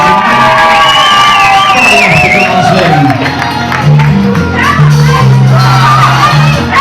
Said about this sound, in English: applause for our brand new